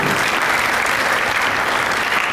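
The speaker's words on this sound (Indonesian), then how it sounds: "Tepuk tangan dulu." Dense, loud applause from an audience at an alumni association inauguration, a brief continuous burst of clapping.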